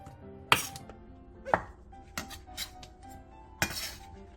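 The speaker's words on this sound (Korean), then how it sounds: "송이버섯 3개를 먹기 좋은 크기로 길쭉하게 잘라 준비해주세요" Knife chopping matsutake mushrooms lengthwise on a cutting board, four or five sharp separate knocks spaced about a second apart, close and fairly quiet.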